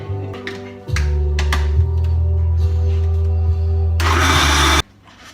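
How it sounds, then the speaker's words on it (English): A food processor blending orange and ginger sauce whirs steadily with a low motor hum, then surges into a louder, harsher blending roar before cutting off abruptly. "So I'm just going to use my trusty processor here."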